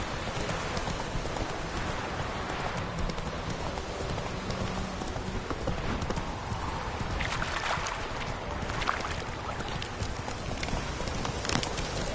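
Horse hooves clip-clopping steadily at a gallop in The Witcher 3, a continuous rapid rhythm over a broad wash of ambient game noise with no talking.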